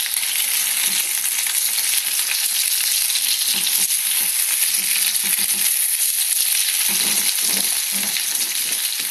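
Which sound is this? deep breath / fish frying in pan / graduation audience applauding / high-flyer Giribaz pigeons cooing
fish frying in pan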